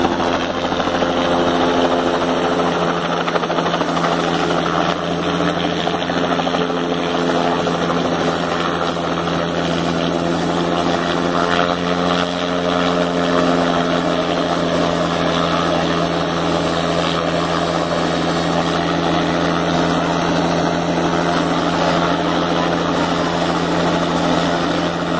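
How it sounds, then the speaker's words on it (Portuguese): A helicopter lands on Morro da Urca in Rio de Janeiro, its rotor and engine droning loud and continuous throughout, with a steady whine and no speech. "O helicóptero pousando aqui no Morro da Urca."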